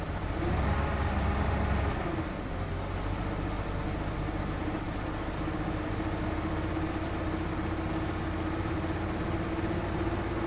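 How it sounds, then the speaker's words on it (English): A 1986 Ford F-250 pickup engine idles after a carburetor update, giving a steady, quiet, even hum with a low drone that runs unbroken throughout. "the engine is so quiet"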